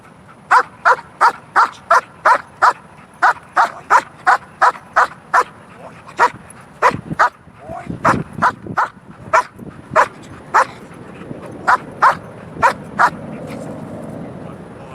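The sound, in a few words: dog barking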